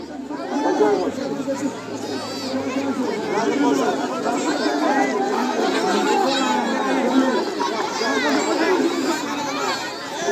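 Dense chatter of a large crowd gathered at a BNP election street rally in Dinajpur, many overlapping voices close by with children among them, steady throughout.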